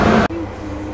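Train pulling into a railway platform on the route to Katra for the Vaishno Devi pilgrimage, a loud rumbling roar that cuts off abruptly, then a low steady hum with a faint high whine and platform noise.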